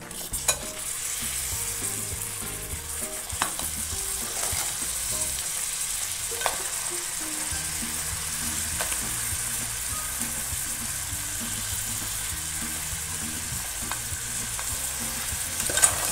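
Crab stirred and sautéed in a pan for a spicy Koli-style crab curry, a steady sizzle with occasional spatula taps and scrapes and a low hum in the background, close and without speech.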